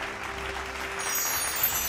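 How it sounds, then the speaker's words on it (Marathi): Audience applause for Rakesh Rathi at a Marathi industry award ceremony, a steady, moderately loud wash of clapping from a hall crowd that holds even throughout. "जोरदार टाळ्या उंजवत आहेत राकेश राठींसाठी"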